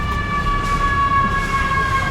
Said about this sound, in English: I've heard more sirens here today than I have in the whole time I've been in Bangkok.